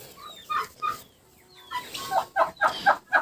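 Several sharp, rising calls from a startled moulting domestic turkey, coming in a quick burst of repeated yelps toward the end after a few scattered clucks.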